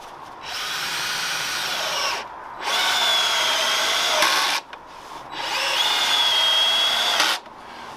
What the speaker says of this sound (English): Obviously I've got to put 2 more screws in there